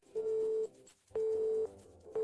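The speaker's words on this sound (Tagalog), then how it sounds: "Bakit binababaan nila ako ng telepono kapag nalaman nilang ako ito?" Telephone busy tone after a call is hung up: steady beeps in a slow, regular on-off pattern, clear and unaccompanied by speech.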